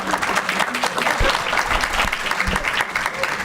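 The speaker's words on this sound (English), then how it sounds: "Can we clap?" Audience applause breaks out at a school board meeting, a steady, fairly loud wash of clapping that fills the room for several seconds with a few louder thumps mixed in.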